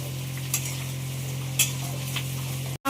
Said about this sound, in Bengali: মাংস একদম সুন্দর করে কষানো হচ্ছে